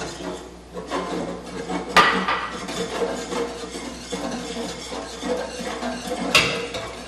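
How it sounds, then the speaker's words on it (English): A metal whisk scrapes and clatters around a pot of flour and onion mixture for soup, steady rough stirring with a couple of sharper knocks against the pot, close and fairly loud. "continue to whisk so that it breaks up that flour and onion mixture"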